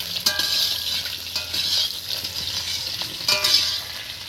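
Potato pieces fry in hot oil for khichuri, a loud close crackling sizzle that swells and eases, with two sharp utensil clinks against the pan and no speech.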